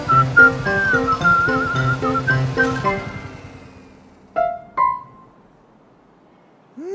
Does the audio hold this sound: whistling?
yes